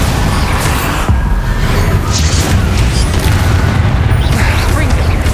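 Bombarda spell explosions in the video game Hogwarts Legacy, a dense, loud, rumbling blast wash with heavy low-end boom sustained over the whole stretch amid chaotic combat noise.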